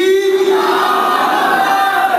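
Religious gathering crowd roaring the Nara-e-Takbeer slogan response in unison, a loud, massed chant of many voices that swells and holds briefly.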